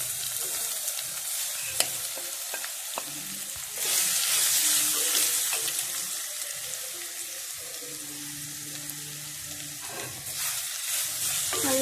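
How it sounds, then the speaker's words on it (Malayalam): Crushed grated coconut is stirred and fried with garlic in a pan for banana peel thoran. There is a close, steady sizzle with scraping stirs and utensil knocks, and the frying swells louder midway. "നല്ലവണ്ണം ഒന്ന് മിക്സ് ചെയ്ത് തേങ്ങയുടെ പച്ചപ്പ് മാറുന്ന വരെ ഒന്ന് നമുക്ക് ഇളക്കി കൊടുക്കാം"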